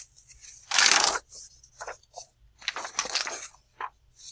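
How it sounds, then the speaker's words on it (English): Sheets of paper, one of them thicker, crackle and rustle as they are handled and laid over another page, with a loud crinkling burst near the start and several shorter shuffles after, close by and quiet, with no talking. "Put a little thicker piece of paper over it."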